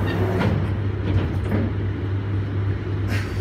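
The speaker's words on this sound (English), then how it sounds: "here we go on the Victoria Line, the 2009 stop." A London Underground Victoria Line 2009 stock train running at speed, giving a loud, continuous rumbling roar with a steady low motor hum and occasional rattling surges, no speech.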